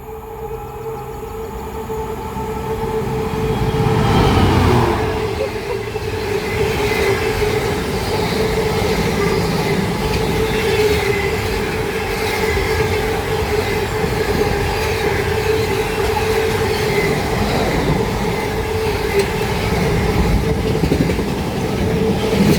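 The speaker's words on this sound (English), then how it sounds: "It's going to be a Freightliner Class 66 going from Crewe Hall to Southampton." A Freightliner Class 66 diesel hauling a freight train passes through a station on a main line, with a loud, sustained rumble of wagons and wheels on rails, a faint screech of wheels, and the roar swelling near the start and continuing steadily.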